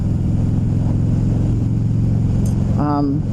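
Harley-Davidson 2016 Dyna Low Rider FXDL with a 103 engine on a test ride, a loud steady engine drone with a rising rev near the end, heard close up under wind noise.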